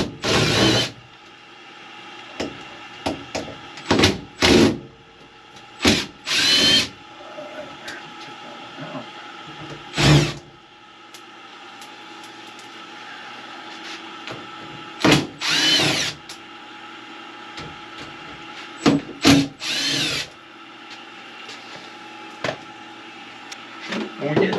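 A power drill backs four screws out of a tankless water heater cover: short, loud bursts of whirring at irregular intervals, close by, with quiet gaps and some handling noise between them.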